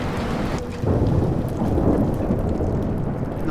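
Thunderstorm in the Life Is Strange video game: heavy rain hissing steadily close by while thunder rumbles low and loud, swelling after the first second and rolling on to the end.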